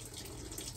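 Water runs from a tap into a portable Chinese washing machine with its drain closed, a soft continuous hiss and splash filling the tub, faint and steady.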